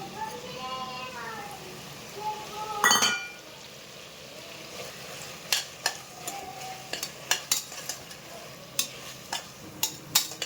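Ground masala spice paste frying and being stirred in a pan for mutton pulav, with soft sizzling under intermittent clinks and scrapes of a spoon against the pan, plus a burst of noise near the start.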